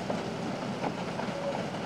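A passenger train runs along a rail line near the King River, a steady close rumble of wagons rolling over the track with faint clicks, continuing without pause and no talk.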